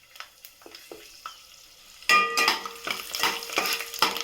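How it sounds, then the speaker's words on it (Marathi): Garlic sizzling in a little hot oil for a tempering: quiet taps and clinks at first, then a sudden loud burst of frying that settles into close, steady sizzling with spoon stirring, no talking. "लसूणची फोडणी. तेल टाकलं थोडंसंच."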